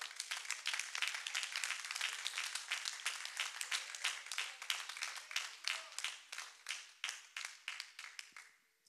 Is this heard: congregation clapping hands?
yes